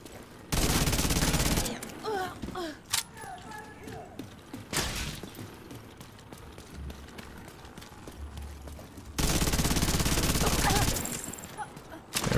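Sniper and rifle fire in The Division 2, with two long sustained bursts of loud gunfire and scattered shots and impacts between them, with faint talk in the background.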